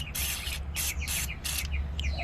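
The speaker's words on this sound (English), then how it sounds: "Spray it in all the holes." Aerosol carburetor cleaner is sprayed into the holes of a 2-stroke carburetor in four short, close, rhythmic hissing bursts, with faint chirping noises between them and a low background hum.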